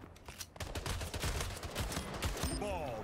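Sniper fire and rapid gunfire in the Splitgate shooter game, a dense burst of loud sharp shots crackling continuously, with a rising electronic tone near the end.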